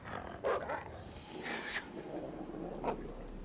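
A dog barking in the video game Until Dawn, in a snowy setting: a few sharp barks over a low, steady background hum.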